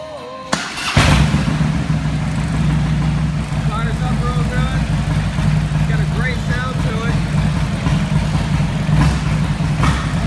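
A 2008 Harley-Davidson Electra Glide Custom motorcycle starting up with a sharp crank and catch, then settling into a loud, steady, deep rumbling idle held close by for about ten seconds.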